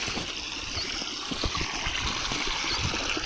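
Water from a motor pump gushes and gurgles steadily from a pipe outlet, a continuous close rushing flow with no voices.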